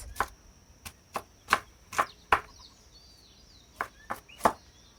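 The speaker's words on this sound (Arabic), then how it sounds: "جبت الماكينة بتاع البصل اللي هي بالخيط" A pull-string manual onion chopper works through onions, giving sharp separate clacks, about ten of them at irregular intervals, close and fairly loud against a quiet background.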